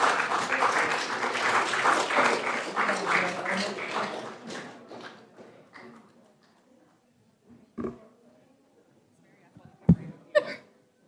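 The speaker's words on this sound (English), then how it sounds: "let's give them a round of applause" A crowd at a county Board of Commissioners meeting claps for several seconds, the applause tapering off into near silence broken by a few isolated knocks and thumps.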